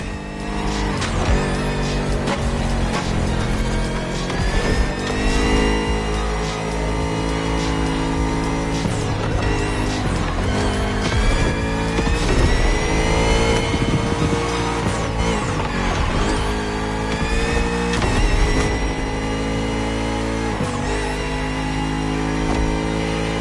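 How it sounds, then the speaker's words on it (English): A Bugatti Vision GT race car in The Crew Motorfest video game revs hard and loud throughout, its engine pitch climbing and dropping through repeated gear changes, with tire squeal and rushing noise beneath. "The Bugatti Vision GT."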